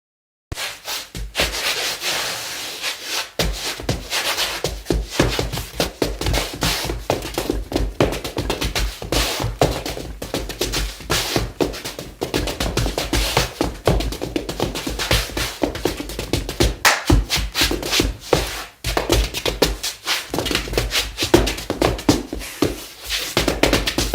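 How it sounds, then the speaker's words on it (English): Tap shoes scraping and tapping on a layer of sand, a dense, steady gritty shuffle with scratchy rubbing and rapid taps running throughout, fairly loud and without talk. "the sound of the tap dancing even changes"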